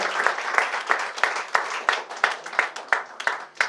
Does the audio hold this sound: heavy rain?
no